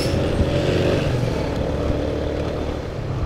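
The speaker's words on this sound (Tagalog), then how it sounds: "Ganyan lang ang pag-drive na motor." Motorcycle engine droning steadily while riding through slow town traffic on a narrow road, a low continuous rumble with faint surrounding street noise and no clear speech.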